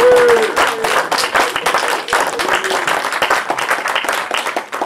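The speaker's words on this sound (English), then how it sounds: "Get your hands together, clap, make some noise" A crowd claps steadily with scattered whoops and cheers, dense and fairly loud, continuing throughout.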